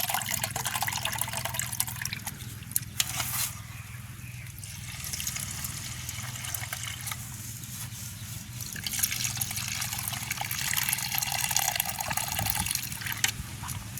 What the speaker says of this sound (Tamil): இந்த உளுந்துண்ட கருத்த கோதை நாங்கள் இப்படி கழுவி எடுப்போம்